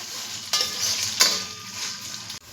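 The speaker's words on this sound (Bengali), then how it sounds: "দিয়ে এটাকে একটু ভালো করে নেড়ে নিতে হবে যাতে চিনিটা গলে যায়" Sugar is stirred into a sizzling, frying mixture for fried rice. Continuous crackling hiss comes with two or three sharp scrapes of a spatula against the pan, recorded close with no voices.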